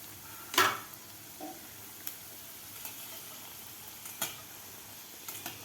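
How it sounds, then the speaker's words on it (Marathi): Sweet modak dumplings frying in oil over medium heat: a faint, soft sizzle runs quietly throughout, broken by a few sharp utensil clicks and taps, with no voices. "आता आपल्याला हे व्यवस्थित थोडासा गोल्डन कलर होईपर्यंत आपल्याला हे मोदक तळून घ्यायचे आहेत"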